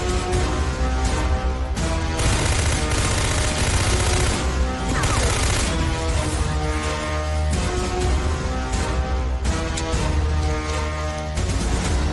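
Loud, dense gunfire in a movie scene, a sustained barrage of shots and crashes that fills the whole stretch with little letup.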